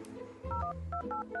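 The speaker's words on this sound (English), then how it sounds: "putting my phone number in her phone just in case you're having a little question later" Touch-tone beeps from a phone keypad as a phone number is entered, several quick tones over a low background hum.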